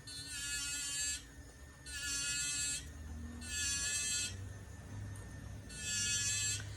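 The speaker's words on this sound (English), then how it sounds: "Turn on my flex shaft." A jeweler's flex shaft polishes a bezel stone setting, its high whining buzz rising in four bursts of about a second each, with a steady lower hum running in between.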